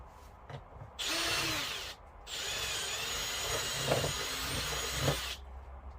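An electric drill whines in two sustained bursts boring bolt holes in a duck-hunting silhouette decoy, the second longer, with brief pauses between and faint clunks in the quiet gaps.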